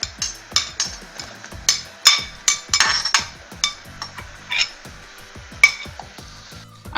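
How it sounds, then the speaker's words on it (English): A spoon or spatula stirs ingredients in a metal cooking pan, with a steady run of sharp clinks and scrapes against the pan over a soft sizzle. "I'm just going to stir everything until it combines"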